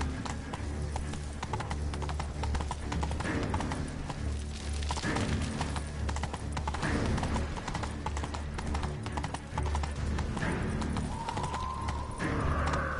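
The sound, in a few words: horse galloping in an 8-bit video game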